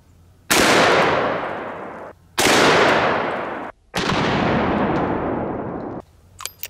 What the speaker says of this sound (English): we're gonna go ahead and shoot it with a 500 Smith & Wesson Magnum anyways